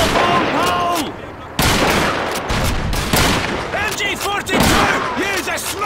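MG42 machine gun fire in Call of Duty 2, loud rapid bursts of gunshots with explosive blasts, under shouted voices and battle noise.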